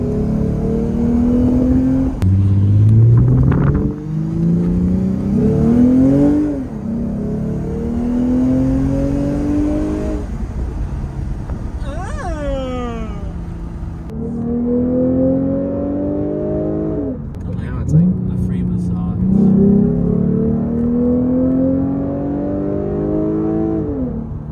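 A Lexus RC350 fitted with an axle-back exhaust revs up and accelerates hard through several gears, each pull rising in pitch before a shift drops it, loud and close with a raspy exhaust note and no talking.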